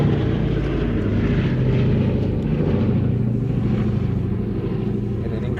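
The engines of a four-engine propeller aircraft, Wright Cyclones of 1,700 horsepower each, drone in a deep, steady roar with a throbbing low hum, loud and continuous from start to finish with no talking.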